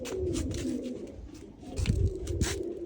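A female homing pigeon perched at the loft gives low, throaty coos in short bursts, close by and fairly soft, over a faint background hum.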